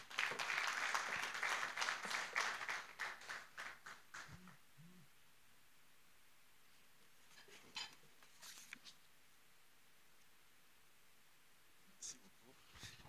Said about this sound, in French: Cela s'accompagne des applaudissements des uns et des autres.